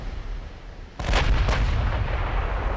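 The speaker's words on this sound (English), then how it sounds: "Hopefully another one of these plunging shots will cause an explosion." Naval guns in Ultimate Admiral: Dreadnoughts, a two-shot salvo of heavy booms about half a second apart after a quiet lead-in, each with a rumbling tail that lingers loudly.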